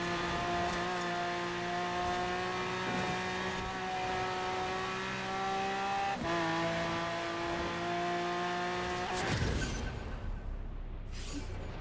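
A 2008 Dodge Viper SRT10 races in Forza Horizon 4, its engine droning steadily at high revs with shifting pitch, then cutting off sharply near the end.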